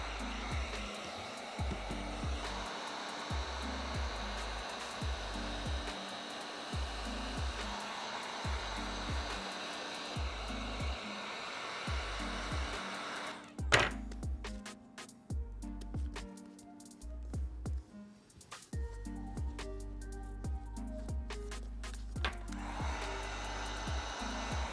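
A heat gun blows hot air over sole shields on a sneaker midsole, a steady close whooshing roar with a rhythmic pulsing underneath that briefly breaks up and sputters midway before settling back into a continuous blast.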